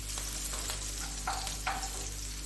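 Green chillies and ginger cooking in a pan of hot oil, a soft steady sizzle with a few light stirring scrapes, close and without talk.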